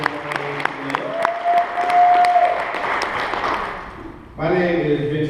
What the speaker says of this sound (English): Big round of applause for Sharon.